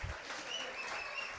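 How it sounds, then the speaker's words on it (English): A live comedy show audience claps together at a charity event in Texas, a short, fairly faint burst of applause with a few whoops riding over it. "One more hand for Mr. Armando Casillo."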